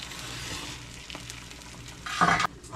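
Breakfast food, cooked over medium, fries in a pan with a steady close sizzle; a louder burst of scraping and stirring comes near the end, with no voices.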